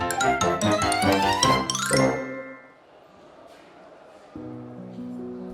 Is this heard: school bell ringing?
yes